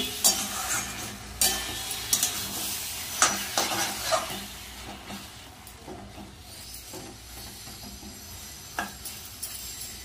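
Taro leaves (kochu shak) with slit green chillies are stir-fried in a pan, a soft sizzle under repeated scraping and clinking strokes of a spatula, close and unhurried, with no talking.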